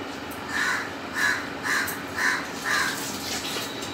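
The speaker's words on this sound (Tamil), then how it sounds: "அது கேமேன்னு கத்திட்டே இருக்கு காக்கா தான் ஓடிடுச்சு" A crow caws repeatedly outdoors near a home kitchen, about five evenly spaced calls in a steady rhythm over faint background hiss, with no talking.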